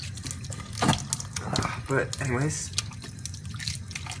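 Warm water runs slowly from a tap into a hedgehog's bath, a soft steady trickle heard close by under continuous talking.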